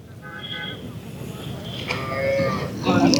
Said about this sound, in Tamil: ஆக மொத்தம் இங்கே 4 மான்கொம்பு மாடுகள் இருக்குது